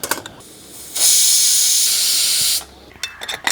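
A pressure cooker on the stove, cooking chopped snake gourd with a little water, lets out a single loud sustained burst of hissing steam lasting about a second and a half, framed by brief scattered clatter before and after.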